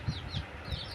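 Hens clucking close by in a short burst, with three or four soft, low clucks in quick succession over a faint background hiss.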